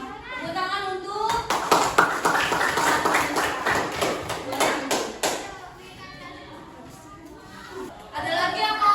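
Students in a classroom clap for a classmate's presentation, a short burst of quick claps mixed with chatter, under and between a teacher's talk.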